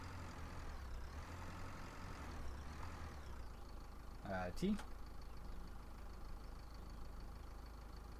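A tractor engine idles in the farming game Pure Farming 2018, a low, steady rumble that holds throughout while someone talks over it, with a brief mechanical clunk midway.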